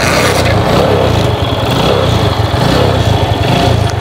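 A used motorcycle's engine runs steadily at close range with a throbbing low idle. The sound is loud and continuous, with no talk over it.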